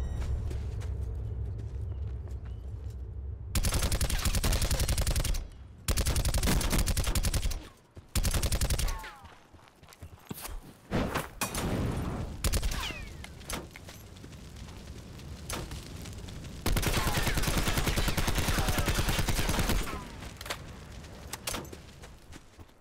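Bursts of automatic gunfire during a Blackout raid, long loud strings of rapid shots separated by pauses, with scattered single shots and mechanical clatter in between.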